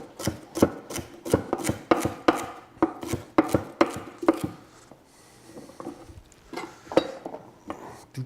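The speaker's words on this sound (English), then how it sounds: "Chop up the celery." A knife chops celery on a cutting board for a roast chicken, rapid rhythmic thuds in a steady run, a short pause, then a few more chops, loud and close with no talking.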